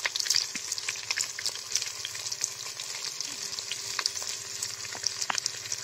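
Onion and garlic fry in a pan with a steady bright sizzle and crackle, plus a few small scrapes and stirs. The sound is fairly close and continuous, with no voices over it.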